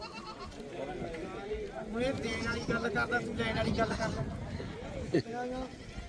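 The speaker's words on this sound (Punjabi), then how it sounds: "ਇਹ ਮੁੰਡੇ ਵਿੱਚ ਬੱਕਰੀਆਂ ਭਾਈ ਦੇਖ ਲੈ" Goats bleat in short, wavering calls amid steady talking from several voices, with one sharper bleat standing out near the end.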